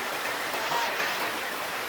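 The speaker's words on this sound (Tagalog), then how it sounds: "Pero lakas ng ulan." Heavy rain pouring down in a steady, dense hiss with no breaks, close and fairly loud, with no voices.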